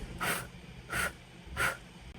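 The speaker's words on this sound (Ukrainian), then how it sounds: "І дуєте на свічку легенько, так, щоб вона не потухла три рази." Three soft, evenly spaced breathy puffs of air blow gently on a candle flame, each a brief airy whoosh in a quiet room.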